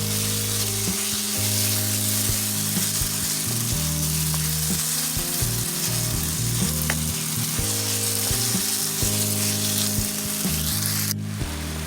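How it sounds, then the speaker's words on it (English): Meat sauce with ketchup sizzles and fries in a pan as it is stirred thoroughly, a constant dense crackle with intermittent scraping and knocking strokes, no talking. "we're going to mix that thoroughly"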